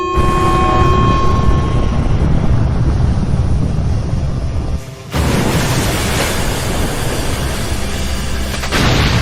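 A missile firing in an anime war scene: a loud, broad roaring rush of launch noise that drops out briefly, then surges again and sustains to the end, with no talk over it.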